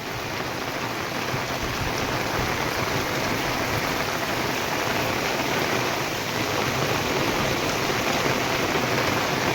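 Steady heavy rain falls in a continuous dense hiss of drops on surfaces, constant in loudness for the whole stretch with no voices.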